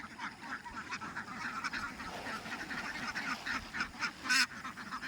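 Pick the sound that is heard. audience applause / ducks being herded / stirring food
ducks being herded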